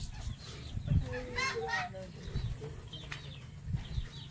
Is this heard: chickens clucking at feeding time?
yes